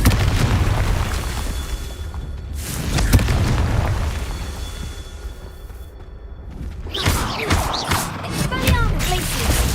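Confringo blasting spells in the video game Hogwarts Legacy set off several loud booming explosions. A burst comes early and another in the middle, followed by crackling debris and magical effects, with a spoken voice in between.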